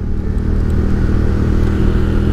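A Bajaj Dominar 400 motorcycle engine running steadily, a loud continuous low rumble with mechanical clatter, close by.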